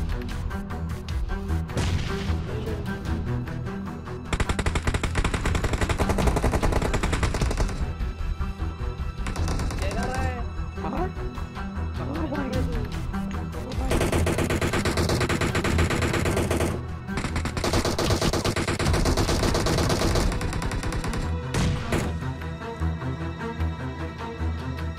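PUBG Mobile firefight: loud, sustained machine-gun fire in long rapid bursts with short gaps, repeated shots and impacts cracking through the whole stretch, close and intense without speech.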